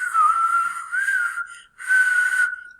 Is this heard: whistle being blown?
yes